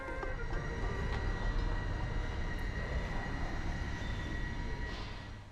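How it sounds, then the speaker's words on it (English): Steady low rumble of an X2000 Swedish high-speed train idling at a platform under an 1891 train shed, with a constant mechanical hum and faint tonal whine, no voices. "our train is already waiting for us under the stunning 1891 built train shed"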